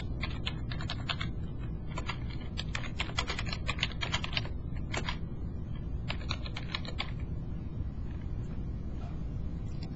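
Fingers type a forum post on a computer keyboard in rapid bursts of clicking keystrokes with short pauses, close and clear over a steady low background hum.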